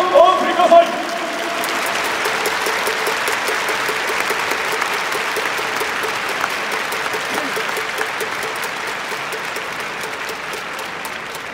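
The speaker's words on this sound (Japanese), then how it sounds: "皆様、盛大な拍手をお送りください。" Sustained applause from a large stadium crowd at the opening ceremony of the 2021 Japan Series baseball games, a dense steady roar of clapping lasting the whole stretch, with a brief louder burst of voice at the very start.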